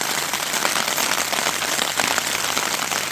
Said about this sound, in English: it's been raining pretty hard for a couple of hours